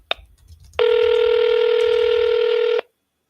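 A telephone tone sounds as a number is called, opening with a faint click and then a loud, steady tone held for about two seconds before it cuts off abruptly, with no talk.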